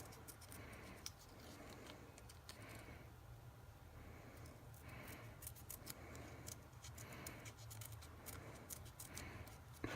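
Scissors cut paper at a workbench during a vintage Nintendo DS repair, with soft, repeated snips and small clicks in an uneven rhythm over a quiet room hum.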